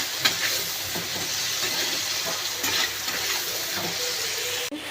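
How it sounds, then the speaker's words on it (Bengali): Chopped tomato dropped into a pan of fried onions, a steady sizzle and hiss with light stirring scrapes running throughout, loud and close. "টমেটোটা দিয়ে দিলাম, পেঁয়াজটা ভাজা হয়ে গেছিল।"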